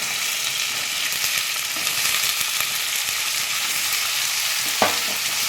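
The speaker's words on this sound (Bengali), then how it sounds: "ঝিঙেগুলো দিয়ে আমি ভালো করে নাড়াচাড়া করবো।" Ridge gourd pieces are stirred and fried in a pan with tomato for a poppy-seed dish, a steady close sizzle broken by scraping spoon strokes and a sharper knock near the end.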